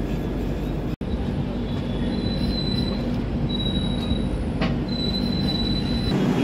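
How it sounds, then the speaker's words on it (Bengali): The Ganga Sutlej Express arrives at Pitambarpur station, its wheels squealing loudly and continuously against the rails, with high metallic screeches rising and falling over a rumbling undercarriage. "ট্রেন তার নির্ধারিত সময় থেকে 15 মিনিট দেরিতে এসে এখন পৌঁছালো পিতাম্বরপুরে"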